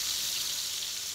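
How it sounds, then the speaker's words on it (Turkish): Sardines fry in a pan with hot oil, giving an even, continuous sizzle and crackle that holds steady throughout with no voices over it. "Bu şekilde kızartıyoruz."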